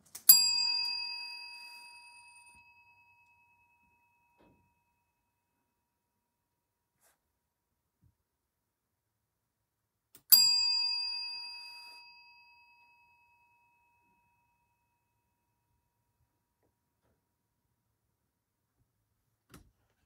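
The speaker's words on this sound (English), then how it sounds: "Every time I ring the bell, something's like... Something creaks." A bell in an old haunted mill is struck twice about ten seconds apart, each clear metallic ring decaying over a couple of seconds into near silence, with no talking.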